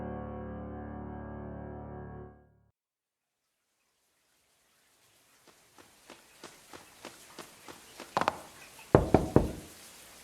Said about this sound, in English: Rainbow Dash knocked on the door of the small 2-story house and waited